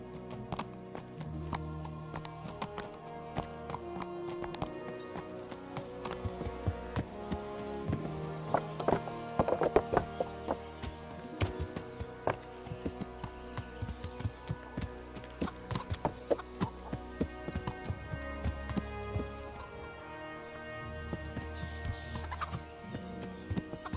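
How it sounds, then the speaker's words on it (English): Horse hooves clip-clop steadily in the medieval video game Kingdom Come Deliverance, a continuous rhythmic trot laid over layered game ambience and music, at a moderate, even level. "Well, I got a horse."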